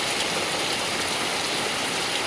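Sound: heavy rain

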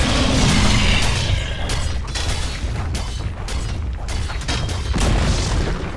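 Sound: Dota 2 video game tower destruction

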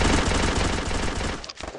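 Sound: gunfire in a shooter video game

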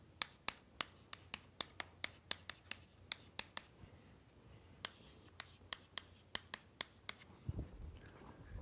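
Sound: writing on a classroom board

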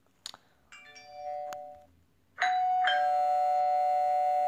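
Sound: doorbell from Minecraft PE furniture mod, video game

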